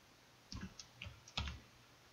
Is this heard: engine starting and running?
no